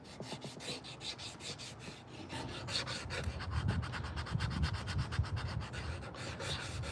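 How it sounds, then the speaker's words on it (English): Wooden spoon being sanded by hand with a sanding block, a steady close rasping rub of abrasive on carved wood in repeated strokes that grow louder and coarser partway through, with no talk. "these sanding blocks, you can get these from Amazon, and you can get them in different grits"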